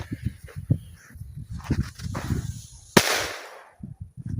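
A Magic Time PP3 firecracker set in snow goes off with a single sharp bang near the three-second mark, after several seconds of quiet handling sounds, with a hissing tail after the blast.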